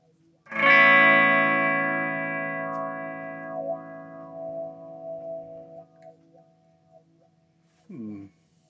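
Electric guitar run through a quirky oddball effects pedal on a Boss pedalboard, one loud sustained chord decaying slowly while a wobbling wah sweep emerges as it fades, then a brief second pluck near the end.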